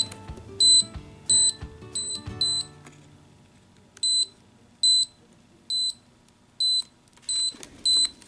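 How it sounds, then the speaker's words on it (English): A Toyota Camry pop-up magazine insert emits a crisp electronic double beep that repeats about a dozen times in a steady pulse, over faint background clatter at first and alone after that. "a beep is timed with the pulse"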